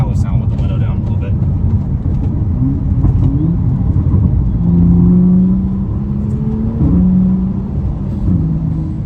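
A tuned, full bolt-on 2015 BMW 335i revs loudly up close, its engine droning and climbing in pitch with rough rumbling pulses, while a voice talks over part of it.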